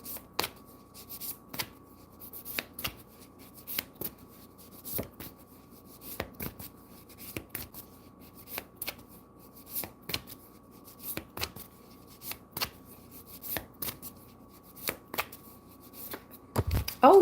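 Tarot deck being shuffled by hand, a long run of quick crisp card riffles and soft slaps in an even rhythm, close and clear with no talking.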